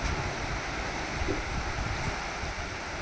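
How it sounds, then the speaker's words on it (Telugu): Sea waves surge over the Shiva lingam at the Stambheshwar Mahadev coastal temple, a steady loud wash of surf and rushing water with wind noise filling the whole stretch. "నిండిపోయాడు శివలింగం అంతా, నిండిపోయింది నీళ్ళతో, ఈ అలలతో."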